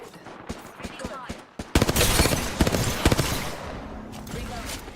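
Video game gunfire in a console ranked battle royale match starts as scattered single shots, then breaks into a loud rapid volley of automatic fire that gradually tapers off, with a voice speaking over part of it.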